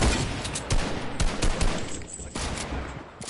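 Rapid bursts of gunfire in the Fortnite video game, several close shots and short volleys cracking in quick succession, with a brief lull before more firing resumes.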